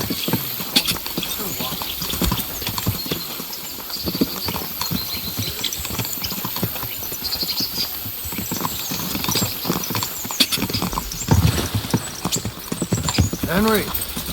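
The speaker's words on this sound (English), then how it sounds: "Easy, good horse." In the medieval game Kingdom Come Deliverance 2, a horse's hooves clip-clop steadily and continuously under people talking, with a brief whinny near the end.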